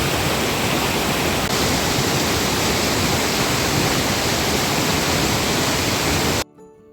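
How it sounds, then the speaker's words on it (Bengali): Sitakund waterfall in Odisha pours as a dense, steady broadband rush of falling water heard from a distance, unbroken for several seconds before cutting off abruptly. "এখন আমরা চলে আসলাম উড়িষ্যার সীতাকুণ্ড ওয়াটারফলসে।"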